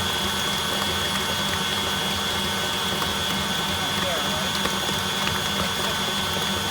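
Steady electric mixer whirring as it beats cream puff dough, a constant mechanical drone with a high whine, loud and unbroken, with talking over it.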